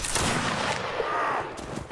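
Massed gunfire in the Mount & Blade video game during a company charge in a battle, a dense, loud volley of shots sustained for about two seconds with no talk over it.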